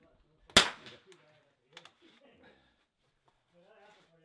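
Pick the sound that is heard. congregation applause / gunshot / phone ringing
gunshot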